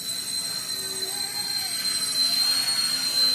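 A Bell 206 RC helicopter with an ERA electric setup hovers nearby during a practice landing, giving a steady, high-pitched rotor and motor whine that swells slightly toward the end.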